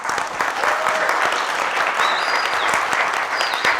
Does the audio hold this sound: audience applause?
yes